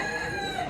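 A rooster crows at a poultry show, one short, loud, sustained burst heard up close.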